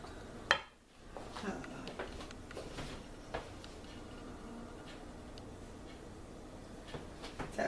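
A spoon stirs rock cake mixture in a bowl, a quiet, continuous scraping and scuffing with a sharp clack near the start and light taps scattered through, no speech.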